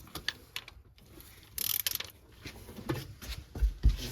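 A ratchet wrench tightening the timing belt tensioner bolt on an Acura MDX during a timing belt service gives a few quiet clicking pawl sounds and metallic mechanical rattles, close by and brief.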